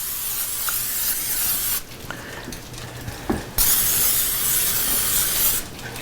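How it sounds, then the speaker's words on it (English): Cooking spray hisses onto a baking dish in two short bursts, the second longer and louder, with faint clicks and handling noise between them in a quiet kitchen. "Okay, we're gonna spray a little bit."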